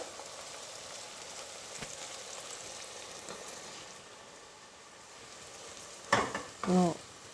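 Onion frying in a pan for chicken pilau, with a steady soft sizzle throughout and a couple of louder, brief clattering stirs near the end.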